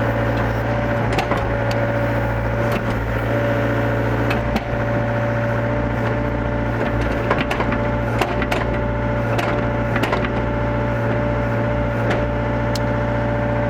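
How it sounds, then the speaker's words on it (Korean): A 2019 Hyundai HW60 wheeled excavator idles during warm-up, a steady low diesel drone with a constant hum running the whole time, broken by occasional clanks and knocks from the machine. "엔진 소리도 아주 좋은 것 같습니다"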